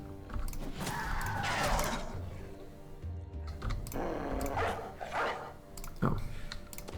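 Dogs bark in bursts within a video game, mixed with clattering keyboard-like clicks and busy background noise.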